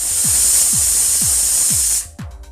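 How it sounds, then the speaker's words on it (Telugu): A pressure cooker boiling peanuts vents a loud, steady hissing whistle of escaping steam for about two seconds, with a rhythmic low thumping beneath it, then the hiss cuts off abruptly, leaving faint sputtering. "2 విజిల్స్ వచ్చినాయి. స్టవ్ ఆఫ్ చేసేద్దాము."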